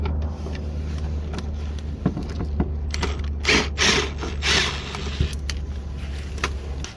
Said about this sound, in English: We're going to go ahead and remove this bolt.